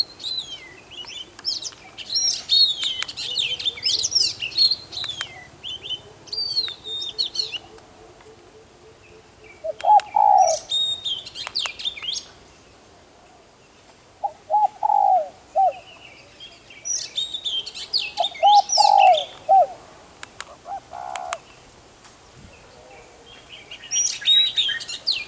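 Birdsong played outdoors from a bird-trapping call loudspeaker about ten metres away. Bright, clear chirping phrases repeat in bursts with short pauses, over a steady background hum of insects.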